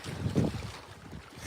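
Gusty wind buffets the microphone beside the snowy Ochoco Reservoir, a low rumbling roar that swells briefly and then settles into a softer, steady rush.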